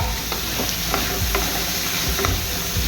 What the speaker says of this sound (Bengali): আলুটা ভাজা হয়ে আসছে